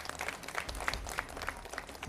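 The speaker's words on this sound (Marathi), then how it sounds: "एकदा जोरदार टाळ्या वाजवल्या पाहिजे त्यांच्यासाठी." Applause for prize winners on a Marathi TV game show, a modest crowd clapping in quick, uneven bursts, fairly close and steady for a couple of seconds with no talking.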